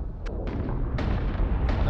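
Ship munitions firing in the space combat game Battlestar Galactica Deadlock: several booming shots and bursts, one at about a quarter second and more later, over a dense rumbling battle bed without talk.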